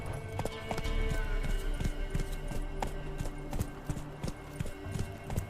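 Roach, a horse in The Witcher 3, gallops with a steady, rapid clip-clop of hooves thudding close by over a constant game backdrop, with no voices.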